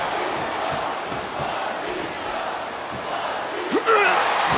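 Wrestling arena crowd during an Arn Anderson vs Batista singles match, a steady dense roar of cheering and shouting, with a few louder whoops rising near the end.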